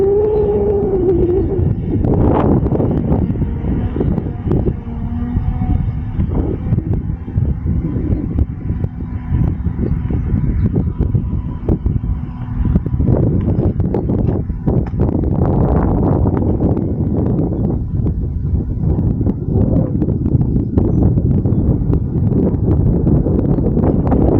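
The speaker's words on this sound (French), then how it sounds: "Énormément de vent, j'espère qu'il va résister notre petit drone." Strong wind of about 7.6 metres per second buffets the microphone of a small FIMI X8 Mini V2 drone steadily throughout, a loud continuous roar with gusty low rumbling and rustling, no voices.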